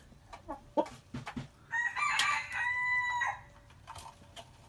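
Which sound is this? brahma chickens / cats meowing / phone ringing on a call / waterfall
brahma chickens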